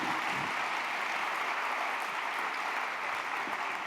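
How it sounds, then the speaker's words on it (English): Audience applause for panelists leaving the stage at the DigiWorld Week 2015 summit, a steady, moderately faint wash of clapping that holds evenly throughout with no voices on top. "I think they deserve an applause"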